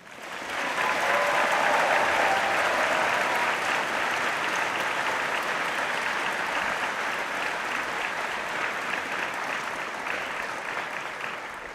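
Sustained audience applause fills a university graduation ceremony hall, loud and steady throughout with no speech over it, tapering only slightly toward the end.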